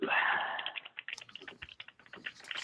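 Soft, quick keystrokes tap on a computer keyboard in an irregular patter during a planning meeting, with faint voices in the background.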